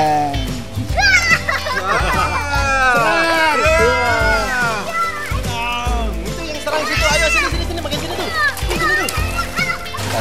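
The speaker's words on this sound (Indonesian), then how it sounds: "Sekarang renang di kolam renang Hotel De Lovina." Water splashes in a hotel swimming pool in Lovina while swimming goes on, with lively children's voices and chatter loud over the sloshing throughout.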